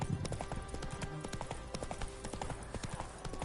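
Horse hooves clip-clopping in the video game The Witcher 3: Wild Hunt, a quick, steady run of hoof strikes under faint ambient game sound.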